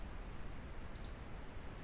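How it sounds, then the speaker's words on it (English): A single soft mouse click on a Save button, a quick faint double tick heard over a quiet steady room hiss. "I will click on the Save button to save this line item."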